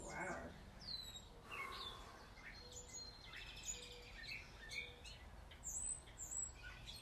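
Birds chirp and squawk intermittently at a distance over a quiet morning outdoor background, with sharp high calls scattered throughout.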